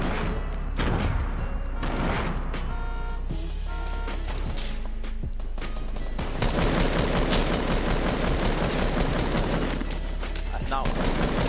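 Rapid bursts of gunfire in Fortnite Battle Royale, loud and close, with repeated volleys and sustained automatic fire, some crashing impacts, and a player's voice talking over parts of it.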